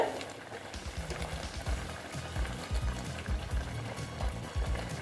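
Pointed gourd (potol) simmering in water in a pan, a steady bubbling under low, continuous soft pops that repeat irregularly, close and moderately quiet, with no voices.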